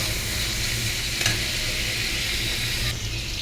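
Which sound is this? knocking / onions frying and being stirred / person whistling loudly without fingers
onions frying and being stirred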